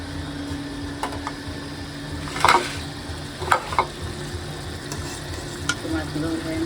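Tengra fish with spices fries in a pan, a steady close sizzle broken by a few scraping stirs and clinks, with faint talk in the background.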